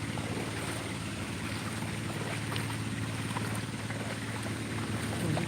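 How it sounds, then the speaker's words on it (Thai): A water pump runs outdoors at a housing estate, making a steady low mechanical drone with a faint rhythmic pulsing under constant wind and background hiss, fairly distant and unchanging throughout. "เขาก็ตั้งเครื่องสูบอยู่นะนะสูบน้ำนะคะ ฟังเสียงตึ๊ดๆจะเป็นเครื่องสูบน้ำนะ"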